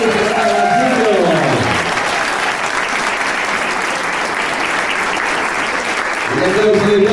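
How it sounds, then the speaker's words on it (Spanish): A crowd at an evening political pre-event gives sustained, dense applause, with an amplified voice speaking at the start and again at the end. "un aplauso de todos y para ellos"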